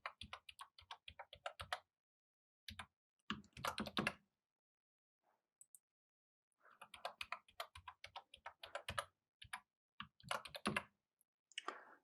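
Password keys tapped on a computer keyboard in quick bursts of clicks, with pauses between runs of keystrokes, close and fairly quiet.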